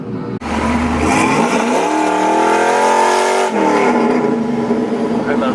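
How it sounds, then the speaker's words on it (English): Pickup truck with a new aftermarket exhaust setup revving hard up close: a loud sustained roar climbs in pitch, holds at high revs, then drops back to a rumbling idle. "This thing sounds amazing. The new exhaust setup is way better."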